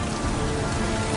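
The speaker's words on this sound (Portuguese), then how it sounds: "Porém, em Titã, a chuva não é de água, mas de metano líquido que cai lentamente." Steady heavy rain falls and patters on a surface, a dense, loud, unbroken hiss of droplets, used to depict slow liquid methane rain on Saturn's moon Titan.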